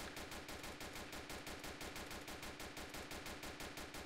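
Rapid automatic gunfire from a police special-forces video game set in Hamburg, steady fast bursts of shots repeating evenly for several seconds, fairly quiet overall with no talking.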